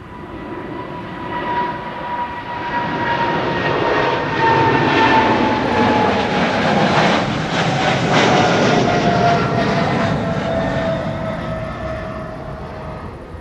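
A Qatar cargo jet departs Schiphol airport, its engines swelling from a distant whine to a loud, close roar with tonal engine whistles, then slowly fading as it climbs away.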